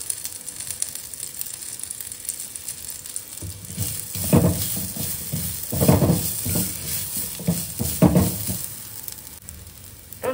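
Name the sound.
stirring and frying chickpea kurma masala in a pan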